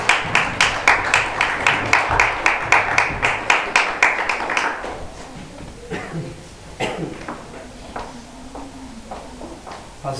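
Congregation clapping hands in rhythm during a church service, a steady run of sharp claps for about five seconds, then scattered quieter claps and murmuring voices.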